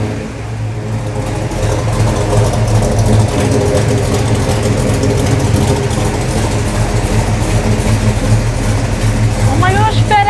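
A 1969 Plymouth Barracuda engine idles with a steady, loud, rumbling low throb that holds an even rhythm throughout, with a voice speaking briefly near the end.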